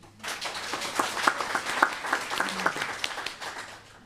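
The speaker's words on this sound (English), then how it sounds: "That was a louder clap prior." Light, scattered clapping from a small audience at a school board meeting, a handful of distinct claps rising and fading over a few seconds, fairly quiet and without talk.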